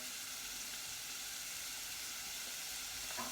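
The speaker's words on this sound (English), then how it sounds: "There we go, vegetables in there, sweating off." Onions and vegetables sweating in a pot for pepper and sweetcorn soup give off a steady, even sizzle and hiss that runs alone throughout, with no voices.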